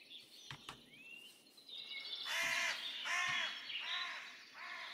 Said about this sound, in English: Stupid crow scared the life out of me.